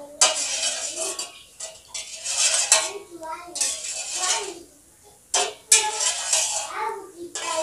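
Pure cow's milk, with no water added, stirred in a pot on the stove, the utensil scraping the bottom in close, repeated strokes broken by short pauses.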